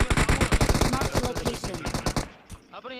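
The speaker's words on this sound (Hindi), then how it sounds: "और पीछे से कुछ शॉट्स आ रहे थे" Rapid automatic gunfire from the video game PUBG Mobile rattles off in a dense, loud burst of shots for about two and a half seconds, then cuts out.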